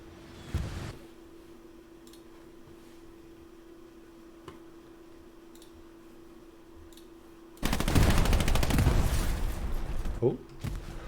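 A mounted machine gun in the video game Hell Let Loose opens up in a long, loud, rapid burst after a quieter stretch with a distant shot, while a commentator talks.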